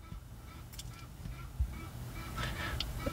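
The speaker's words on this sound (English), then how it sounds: "There's like 10 ducks walking by this parking lot, quacking and quacking." Roughly ten ducks walk past a parking lot, giving a few scattered honking quacks at close range over a low background rumble.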